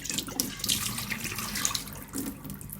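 Tap water runs steadily into a sink while radish sprouts are rinsed, a close, continuous splashing and trickling stream with small irregular surges and no voices.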